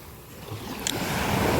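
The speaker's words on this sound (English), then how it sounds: "the sea is very calm, you know, the waves are very relaxing" Calm sea waves wash in, a soft continuous surf swell that builds slightly toward the end, with some wind noise.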